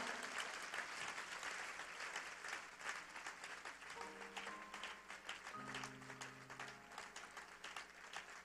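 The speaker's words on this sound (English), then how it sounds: "Are you clapping for Jesus as they come?" A church congregation claps steadily during an altar call, a continuous dense wash of applause with faint tones of music or voice rising in the middle.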